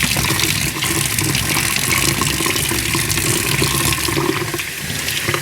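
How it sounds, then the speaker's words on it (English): Tap water runs steadily into a sink while a bleach-dyed T-shirt is rinsed beneath it, a close, continuous splashing rush with slight shifts as the fabric moves. "I'm just gonna rinse it so you'll actually see some dye come out of there"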